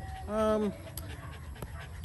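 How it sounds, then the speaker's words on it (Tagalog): A dog gives a short high whine among a large pack of dogs, followed by soft panting and faint shuffling nearby, with people talking in the background. "parang ayan, yung mga aso napaka-cute, 'di ba?"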